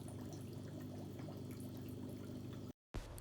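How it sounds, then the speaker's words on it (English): Large bubbles from an aquarium sponge filter break steadily at the water surface, a continuous gurgling splash close by that cuts out abruptly near the end. "These are much bigger bubbles than in the first filter, and they make quite a bit more noise."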